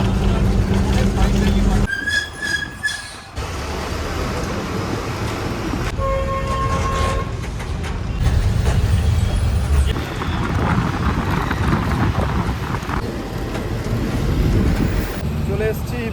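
Inside a moving city bus headed to Belgachia metro, a loud steady engine and road rumble with wind noise and occasional horn-like tones, while people talk over it.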